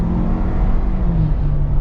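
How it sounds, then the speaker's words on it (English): A 2022 Ford Bronco Base Sasquatch with turbocharged engine, 4.7 axle ratio and 35-inch tires accelerates hard, giving a loud, continuous engine roar and whir heard from close by, with no talking. "And I love that you can hear the blow off."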